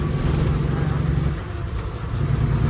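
A loud, close truck engine drones steadily, with a brief dip and whooshing blow-off-like release on throttle lift partway through before the rumble builds again.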